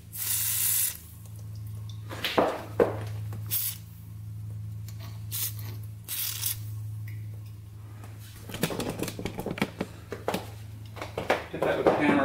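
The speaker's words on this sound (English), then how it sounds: "A little penetrating oil down here if you can." Penetrating oil is sprayed in several short hissing bursts onto a Polaris 500 4x4 ATV during a repair, close up, with a steady low hum underneath and a voice talking in between.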